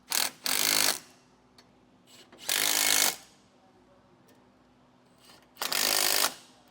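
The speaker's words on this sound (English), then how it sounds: "we'll come back with that 14mm socket and a 9/16 wrench on the back side and tighten these down in a star pattern." Trailer disc brake kit nuts being driven down on a 2021 Dutchmen Voltage with a 14mm socket on a power tool, three loud buzzing bursts separated by quiet pauses, close by.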